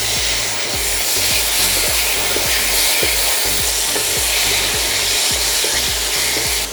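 Fried potatoes are tossed into a sizzling spice masala in a pan, making a loud, steady hiss with regular scraping strokes of stirring, close and with no voices.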